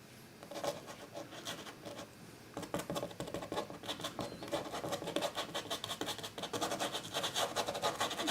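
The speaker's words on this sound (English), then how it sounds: "really kind of just scraping side to side a little bit and then flicking upward in places" A palette knife or brush scrapes acrylic paint across canvas in quiet, rhythmic side-to-side rubbing strokes, close up and continuous, with no voices.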